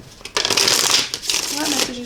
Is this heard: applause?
no